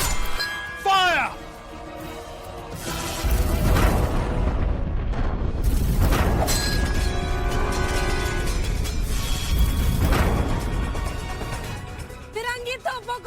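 Cannons fire in a battle scene from an Indian historical TV drama, with several heavy booms and rumbling blasts mixed with shouting voices and battle noise.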